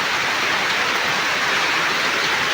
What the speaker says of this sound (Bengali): আর বাইরে তো পুরো বৃষ্টি শুরু হয়ে গেছে